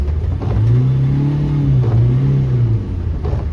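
A car engine revs and surges steadily while pushing through deep floodwater on a flooded street in Virar during heavy rain, the close, loud drone rising and falling in pitch with no one talking.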